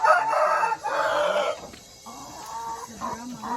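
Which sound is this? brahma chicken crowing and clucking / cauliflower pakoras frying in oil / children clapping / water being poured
brahma chicken crowing and clucking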